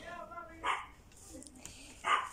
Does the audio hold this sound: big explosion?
no